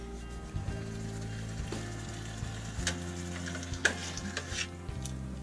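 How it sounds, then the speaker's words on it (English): Chicken sizzles in a pan on a sailboat galley stove with a steady crackle, joined by occasional clinks and scraping from stirring or moving the food. "You can hear the chicken sizzling and cooking"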